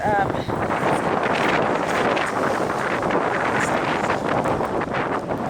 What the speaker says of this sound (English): this wind is so strong